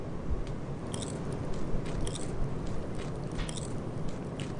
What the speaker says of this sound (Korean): 사과를 먹는다.